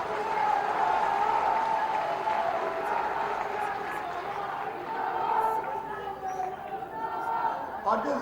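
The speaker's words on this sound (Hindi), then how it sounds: "तालियां बजा के" A crowd at a political rally breaks into sustained applause and cheering, a dense wash of clapping that holds steady throughout, with voices chattering in the mix.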